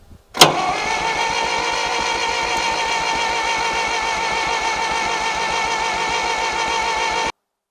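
A 1960s John Deere 1010 tractor engine, sitting unused for 18 years, cranks briefly, catches with a sharp burst and settles into a steady running drone before cutting off abruptly.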